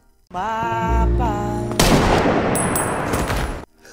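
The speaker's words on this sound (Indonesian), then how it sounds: "Dirinya ditembak tepat di kepala dan pelakunya adalah seorang pria yang mengenakan logo tengkorak" A gunshot in a Daredevil: Born Again series scene: one loud, heavy blast cuts through a sustained tonal sound and leaves a dense, ringing rumble that fades after a couple of seconds.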